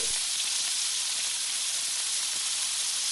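Anjal (seer fish) frying in coconut oil in a restaurant kitchen in Surathkal, Mangalore: a loud, steady, close-up sizzle and hiss with no voices.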